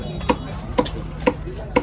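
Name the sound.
kourali fish being cut with a knife at Kasimedu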